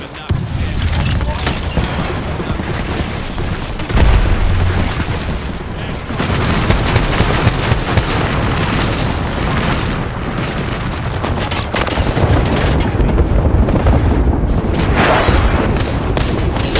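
Gunfire in the battle royale game Apex Legends: steady, loud shots and booming impacts crowd the whole stretch, with heavier bursts scattered throughout the continuous combat noise.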